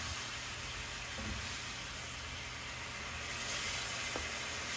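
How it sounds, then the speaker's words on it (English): Taco meat and water boiling in a pan, a faint, steady bubbling hiss and sizzle with no voices. "we're already boiling there."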